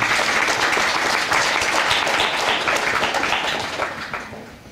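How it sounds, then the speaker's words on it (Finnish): A crowd applauds with dense, steady clapping that carries on for several seconds before starting to thin out toward the end. "annettaisiin yhteiset aplodit nyt kaikille meidän esiintyjille tänään"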